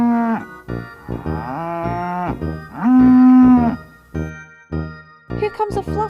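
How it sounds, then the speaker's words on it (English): Cartoon-style cow mooing for a toddler farm animal sound lesson: several loud, drawn-out moos in a row, one long and strong in the middle, followed by short tonal calls. "Cows say moo."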